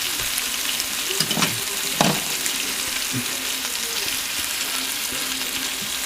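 A broccoli-and-cheese stuffed piece of food sears in a frying pan with a steady, close sizzle, broken by a couple of soft scrapes or knocks of a utensil.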